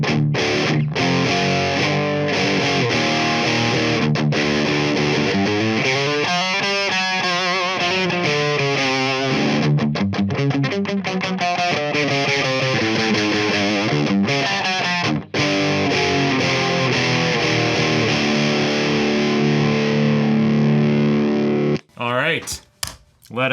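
Electric guitar played through the op amp stage of a DOD 250 overdrive pedal with its diode clipping removed, giving a loud, continuous distorted tone of sustained chords and notes that ends with a few abrupt choppy bursts.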